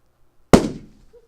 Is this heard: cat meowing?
no